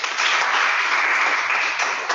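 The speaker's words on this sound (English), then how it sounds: "Let's clap for him." An audience claps for a participant at a youth information session, a dense, steady round of applause held evenly at moderate loudness for a couple of seconds.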